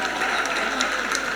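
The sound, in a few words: audience applause during a sermon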